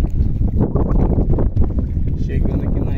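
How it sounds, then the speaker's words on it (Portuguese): Strong wind buffets a boat heading toward an island on a fishing trip, a loud, steady roar of gusts and microphone rumble with water noise, continuous throughout. "vento tá forte, né, tio?"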